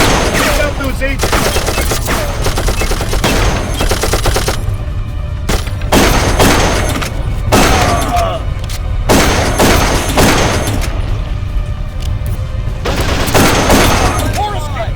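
Auto turret gunfire from the video game Darkest of Days, set at the Battle of Pompeii, a loud, dense barrage of rattling shots and booming impacts running throughout under shouted voices.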